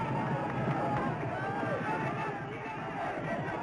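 A big racecourse crowd roars in a steady, continuous wall of cheering as Red Rum wins the Grand National, with jockey Brian Fletcher standing up in the saddle, the noise loud and sustained throughout.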